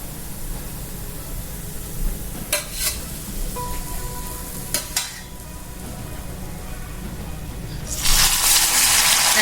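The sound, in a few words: aloo poha cutlets frying in oil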